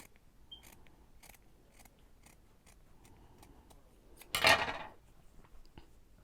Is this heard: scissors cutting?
yes